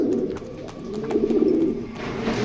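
Racer pigeons coo steadily nearby, their deep burbling calls overlapping in one continuous, fairly loud stretch.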